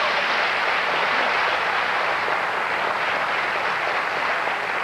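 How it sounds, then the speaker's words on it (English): A crowd applauds steadily and loudly throughout, a dense continuous wash of clapping with no talk over it. "But, you clap. Go ahead. Clap if you want."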